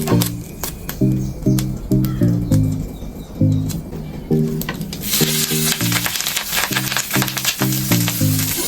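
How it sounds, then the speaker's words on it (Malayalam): Oil poured into a hot pan for cooking crab breaks into a loud, crackling sizzle partway through. Before and during it, a pigeon coos repeatedly nearby in short, regular phrases. "എണ്ണ ഒഴിച്ചു കൊടുക്കാം"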